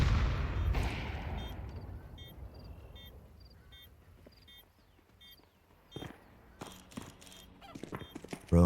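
Gunshots in a competitive Rainbow Six Siege match: a loud blast at the start decays into a quiet stretch, followed by a few sharp, spaced shots and footsteps toward the end.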